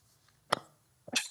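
A single sneeze in a quiet meeting room at a police commissioners' meeting, a short sharp burst followed by a second brief sneeze-like burst about half a second later, moderately near.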